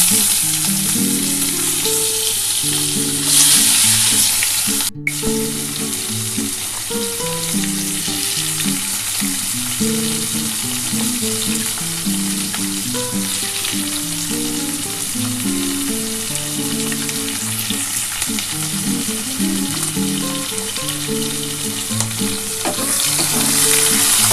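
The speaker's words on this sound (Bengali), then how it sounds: "এবার আমি কড়াটার মধ্যে তেলটা যেটা গরম হয়ে আছে তার মধ্যে আমি এই তেজপাতাটা দিয়ে দিলাম" Bay leaf and chopped onion fry in hot oil in a kadai, a loud continuous sizzle with intermittent stirring and crackling throughout.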